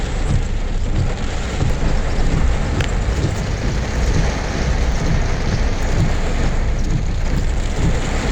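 Heavy rain pours steadily onto a city road near underpasses, a dense, unbroken hiss and wash that stays loud and even throughout with no voices.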